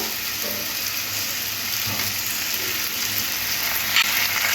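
Pumpkin pieces fry in a pan with ginger paste, giving a steady close sizzle throughout with a few soft scraping clicks, no talking.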